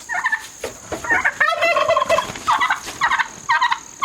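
Several Buff Orpington chickens cluck close by in a busy, overlapping chorus of short calls, with no talking.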